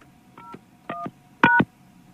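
Telephone keypad DTMF dialing tones placing a call to a radio listener: three short dual-tone beeps, evenly spaced and growing louder, clean and isolated with no talk.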